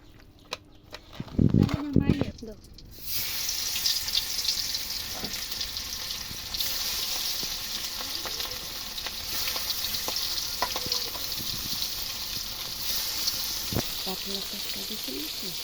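Fish coated in an egg marinade frying in a pan, a steady close sizzle that settles in after a brief loud clatter at the start, with occasional pops and stirring, and a voice speaking over it.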